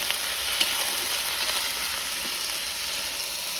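Meat frying in a hot pan without spices yet, a steady, dense sizzle that stays even and fairly loud throughout, with no voices over it.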